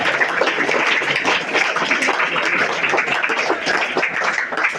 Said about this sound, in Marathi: वाजवा, टाळ्या वाजवा एकदा त्यांच्यावरती